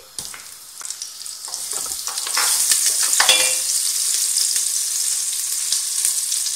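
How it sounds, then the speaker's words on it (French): Olive oil and butter sizzle in a pot as a tajine of lamb begins, a steady broadband hiss that swells and stays loud throughout, with occasional faint stirring clicks and no talking. "je vais mettre de l'huile d'olive à laquelle je vais rajouter du beurre rince"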